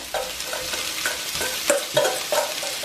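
Shrimp stir-fry in a pan for curry, a constant sizzle with rhythmic scraping and clacking of a spatula as the pieces are tossed, close and moderately loud.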